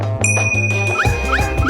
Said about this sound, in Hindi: घंटी बजने के कारण बच गए।